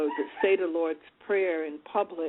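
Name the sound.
dog barking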